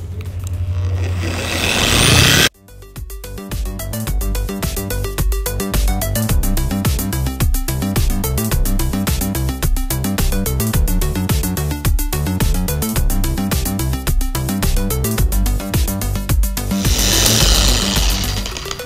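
An orbital polisher on its lowest speed spreads wet mirror-finish wax across a car hood, a loud steady motor drone that starts abruptly after a brief hiss and runs continuously.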